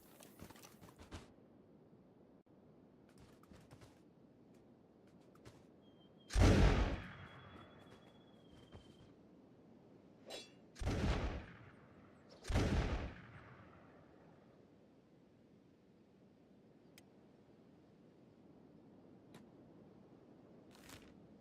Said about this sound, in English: Now that's starting to look like a well-trained musket team. I don't know who they're shooting at now.